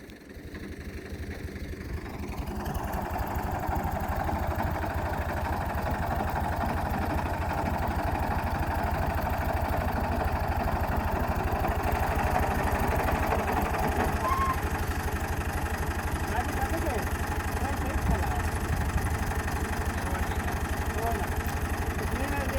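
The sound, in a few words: tractor engine idling while pulling a tree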